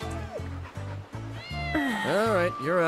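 A cat in Final Fantasy 7 Remake meows several times in a row, its calls rising and bending in pitch, with a low background tone and some talk mixed in.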